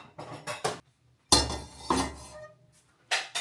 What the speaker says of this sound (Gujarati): તપેલું મૂકી દીધું છે